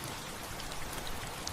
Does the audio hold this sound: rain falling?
yes